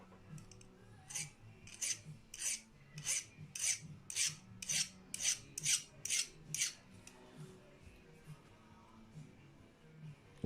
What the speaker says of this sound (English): I'm going to take a file and do it off to the side here.